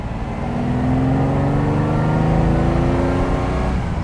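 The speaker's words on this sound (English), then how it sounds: "I will just give it a little bit more throttle on this straight." A Ferrari 330 GT 2+2 with a freshly rebuilt 1960s V12 accelerates along a straight, its engine note climbing steadily in pitch, loud and close from inside the car with no talking.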